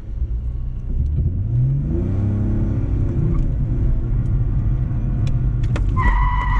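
A car's engine revs hard while drifting, a steady loud mid-pitched roar that rises and swells in pitch around the second and third seconds, then holds, with a brief higher whine near the end.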